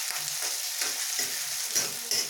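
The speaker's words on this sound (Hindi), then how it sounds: "और इसे 1 से 2 मिनट तक ऐसे फ्राई कर लेना" Sliced onions frying and being stirred in a pan with whole cardamom, cinnamon, cloves and black peppercorns, for bhindi do pyaza: a steady soft sizzle broken by a few scraping stir strokes, close and alone with no talk.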